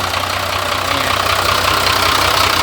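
A Mitsubishi 195 truck engine fitted with a turbo idles just after starting, a loud, steady diesel rumble with a light knocking clatter, close by and constant throughout.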